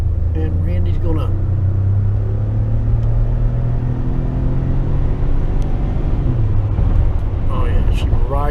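A 2014 Ford F-150 Lariat pickup truck is driven, its low engine and road rumble droning steadily inside the cab, with brief talk over the steady hum.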